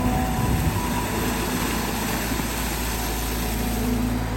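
A Caterpillar 320GX excavator with a four-cylinder engine digging a garden trench in hard laterite soil, a loud, steady engine drone with constant low rumble, close by and without talk.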